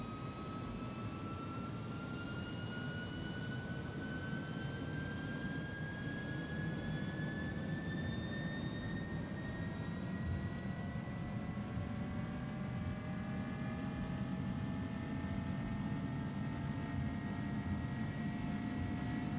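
Airbus A300-600R jet engines at takeoff thrust in the X-Plane 11 flight simulator, a steady loud roar with rising whining tones climbing in pitch as the engines spool up.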